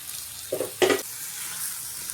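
Bitter gourd is tipped into an onion- and garlic-free gravy in a hot pan, giving two brief, close sizzling bursts followed by quiet.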